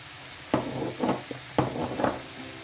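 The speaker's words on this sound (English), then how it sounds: "Stir, stir, stir." Food being stirred in a frying pan, with a few separate scraping strokes of a spoon through a sizzling mixture set close, and a steady low sizzle continuing between the strokes.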